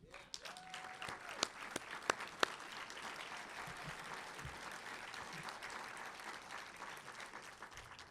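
An audience at a city's State of the City address applauds, scattered claps swelling into steady, moderately distant clapping that continues for several seconds, with a few sharper individual claps standing out early on.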